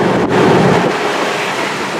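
Steady, loud wind roar rushing past an open-top Mercedes-AMG SL 43 roadster driving with the top down, a continuous broadband buffeting with no voices.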